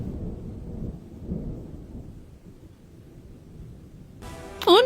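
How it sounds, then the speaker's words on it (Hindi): A thunderstorm sound effect plays in a narrated village story, with a low rumbling roll of thunder that builds and recedes, then a sudden louder burst at the end. "एक दिन गांव में अचानक एक बड़ा तूफान आया, जिससे उसकी दुकान टूट गई।"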